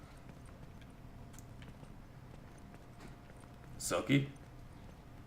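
Horse hooves clip-clop steadily at a walk in The Last of Us video game, faint and distant under a soft background hum, and a voice briefly says a word near the end.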